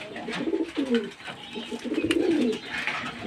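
Pigeons coo in short, rounded phrases close by while being fed wheat, two or three soft bursts of cooing over a quiet indoor background.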